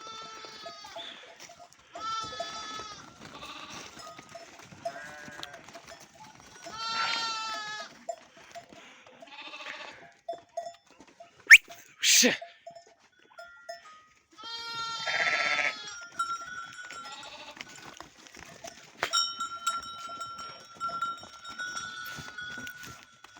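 Several sheep bleat in turns, some near and some farther off, with a sharp clatter partway through and quiet gaps between calls.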